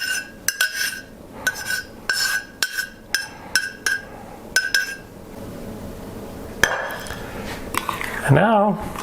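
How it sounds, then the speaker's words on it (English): Dry ingredients and a warm liquid mixture for homemade bird suet being mixed together in a large bowl, with repeated sharp clinks and scrapes of a utensil against the bowl in a steady rhythm, then a louder clatter near the end. "And now I just mix everything together."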